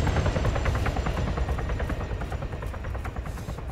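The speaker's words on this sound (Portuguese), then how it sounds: "Esse helicóptero vai direto pra lá" Helicopter flying in the military video game ArmA 3, its rotor pulsing in a steady rapid chop with a loud, dense drone that holds for the whole stretch without voices.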